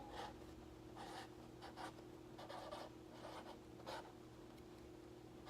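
A pen scratches out short strokes on a label for eggs, quiet and close, in brief bursts with small pauses, over a faint steady hum.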